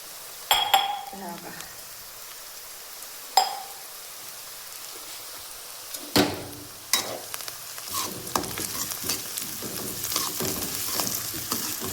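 Peanuts dropped into a hot pan for poha, sizzling and frying under scattered stirring scrapes and metallic clinks from a spatula, with sharp knocks at intervals; no talk.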